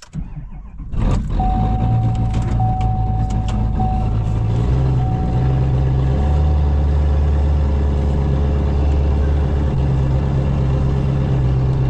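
A Duramax diesel truck engine with its turbo disconnected fires up after a brief crank and settles into a loud, steady, rough idle with a persistent whine, running close by for the rest of the clip.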